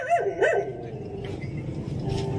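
A dog gives two quick barks close by, followed by a low rumbling background and faint whimpering sounds.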